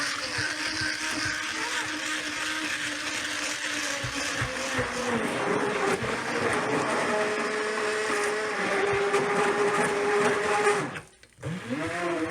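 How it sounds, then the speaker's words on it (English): An immersion blender runs continuously at a higher speed with a loud, whining motor hum that shifts pitch as it works, then briefly cuts out near the end. "it's called a immersion blender"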